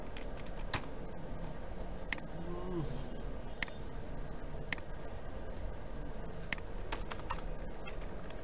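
Someone types a search query on a computer keyboard while coding a Django job portal, with soft, irregular key taps and a few sharper clicks, close and faint over a low background hiss.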